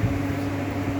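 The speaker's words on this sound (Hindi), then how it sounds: "कूलर चालू कर दिया है" An air cooler runs steadily indoors at home, a constant low whirring hum with a faint motor tone and airy broadband hiss, unchanging throughout the short stretch with no voices.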